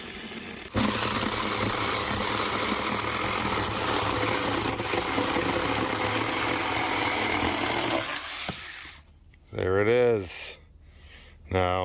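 A SAKER battery mini chainsaw cuts through wood with a loud, steady motor buzz that runs for several seconds and then stops, followed by someone talking.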